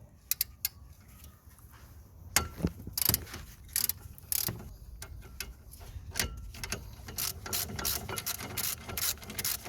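A ratchet loosening a front brake caliper bolt on a Toyota Yaris, with bursts of rapid clicking and some mechanical rubbing, close and moderately loud, quiet pauses between strokes and no talk.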